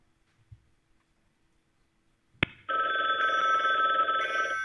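A telephone rings for an incoming whitelisted call: a sharp click, then a loud, steady electronic ring tone that continues to the end, close and alone.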